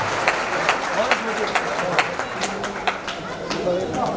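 A large crowd at a Hindu temple consecration festival claps steadily and loudly, the applause dense and continuous with sharp individual claps standing out and a murmur of voices underneath.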